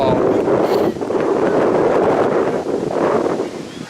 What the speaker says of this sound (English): the wind is blowing pretty strong from our left to right